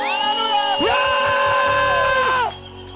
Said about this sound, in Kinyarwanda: Impundu nyinshi kuri Yesu.